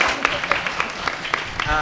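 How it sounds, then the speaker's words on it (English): Audience applause at a live animation crew panel at an art gallery, a dense steady patter of clapping with a few sharper claps standing out, running throughout. "round of applause to our leads"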